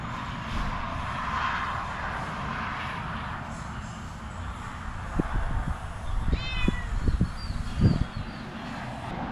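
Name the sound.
cat meowing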